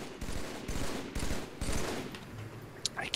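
Gunfire in the video game Halo 3: sustained bursts of rapid shooting in several waves, moderately loud, then thinning out near the end.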